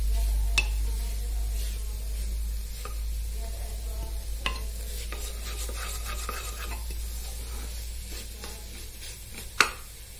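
Grated coconut stirred and fried in a pan for coconut and suji laddu, a quiet scraping of the spoon with a low sizzle and a few sharper clicks against the pan, no talking.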